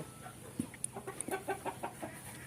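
Brahma chickens and roosters giving a quick series of soft clucks and short calls close by, fairly faint against a steady background hiss.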